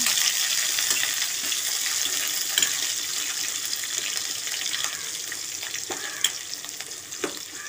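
Cumin, curry leaves and chopped onion sizzle in hot oil for an Andhra-style potato curry, a steady bright crackling hiss with occasional louder pops and stirring scrapes, close by and without speech.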